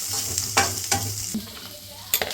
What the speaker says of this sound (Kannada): ಇದನ್ನು ಆನಿಯನ್ ಹಾಕಿದ ತಕ್ಷಣ ಚೆನ್ನಾಗಿ ಅದನ್ನು ಗೋಲ್ಡನ್ ಬ್ರೌನ್ ಫ್ರೈ ಬರೋ ತನಕ ಅದನ್ನು ಫ್ರೈ ಮಾಡ್ಕೊಳ್ಳೋದು